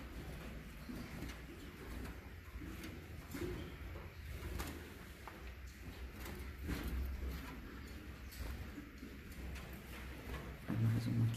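Mutation coleiro and cardinal songbirds in a breeding aviary give faint high chirps and short calls against steady room noise and occasional soft knocks.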